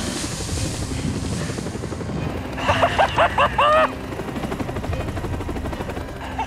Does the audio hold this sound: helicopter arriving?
yes